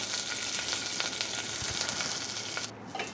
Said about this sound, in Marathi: त्यानंतर मी इथे टाकत आहे कढीपत्ता आणि हिरव्या मिरच्या आहेत